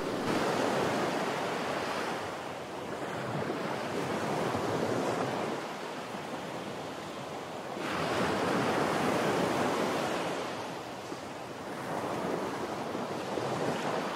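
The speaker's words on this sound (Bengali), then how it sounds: "বারান্দার পাশে সোফাতে বসে বসে সমুদ্রের হাওয়া এবং গর্জন দুটোই কিন্তু অনুভব করা সম্ভব।" Sea waves roll onto Digha beach in slow, loud surges, each swell building and fading over several seconds, with steady wind rushing across the shore throughout and no voices.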